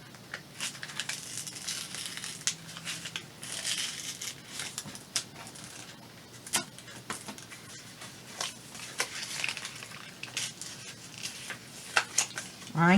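A paper envelope being handled and pulled open, with close, intermittent crinkling and small tearing rustles that keep stopping and starting, with a voice faintly in the background.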